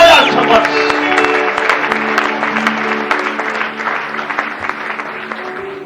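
A church congregation applauds during a bishop's testimony service, a loud burst of clapping that starts strong and slowly thins, with bright sustained organ or keyboard chords ringing underneath.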